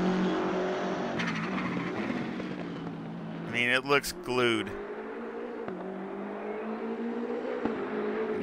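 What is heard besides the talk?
race car engine in video game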